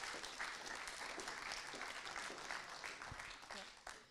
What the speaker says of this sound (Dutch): Mag ik een hartelijk applaus voor de drie gastsprekers?